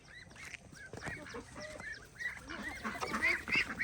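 Ducks call on a farm where pigs are also kept: a run of honking, quacking calls near and mid-distance that grow busier and louder toward the end, with no talk.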